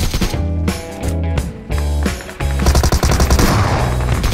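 Rapid automatic gunfire in the video game PUBG Mobile, loud and close, with dense bursts of repeated shots broken by short pauses and a sustained volley toward the end.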